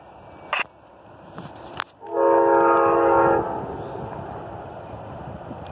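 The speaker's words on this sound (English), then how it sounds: "here's the Amtrak 49, the one I hardly get to see" Amtrak 49 westbound passenger train at a road crossing, its horn blaring loudly for over a second after a few brief clicks, then a lingering rumble of the passing train.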